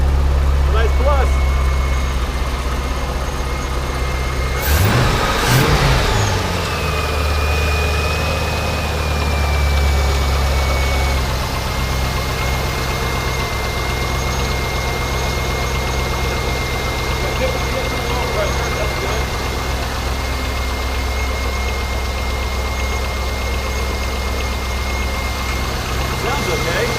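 Corvette C5 Z06 V8 engine idling steadily with a brief blip of revs early on, a loud continuous low rumble throughout, with people talking over it at times.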